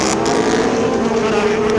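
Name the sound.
motorcycle engines riding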